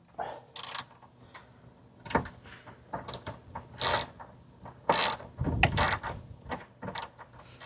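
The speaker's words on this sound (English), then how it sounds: "We will be using the ratchet with the 10mm attachment." A ratchet with a 10mm socket works the side mirror bolts on a Subaru VA WRX, giving bursts of rapid clicking and mechanical rattles close up, with short pauses between strokes and no speech.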